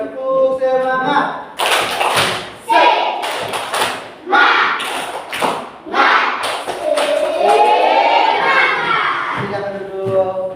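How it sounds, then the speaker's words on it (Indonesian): A class of children repeats a rhythmic spirit clap, with sharp clustered claps and thumps mixed with shouted chanting voices. The room sounds close, loud and energetic. "Sekali lagi, tepuk semangat."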